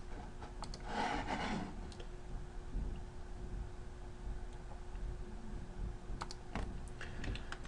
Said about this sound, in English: So if I type in the same numbers,